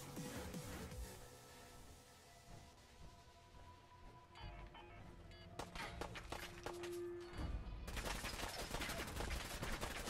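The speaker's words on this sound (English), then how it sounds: "Somebody's shooting at me." Gunfire from the game Fallout 4 sounds off in quiet, muffled bursts and rapid volleys, some close and sharp, with footsteps and game ambience underneath and a voice speaking briefly.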